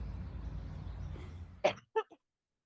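A few short, sharp coughs close by, three bursts in quick succession after a stretch of low background rumble.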